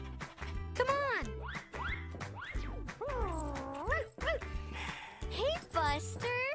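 A cartoon dog in a children's animated show gives several bouncy, springy barks and yips in quick succession, mixed with playful music and sound effects.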